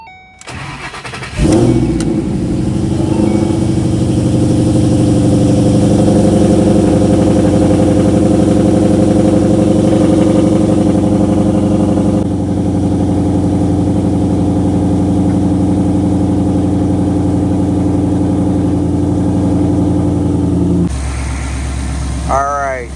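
A Ford Mustang with a Coyote engine cranks and fires up, then settles into a loud, steady, rumbling idle up close for about twenty seconds before dropping off.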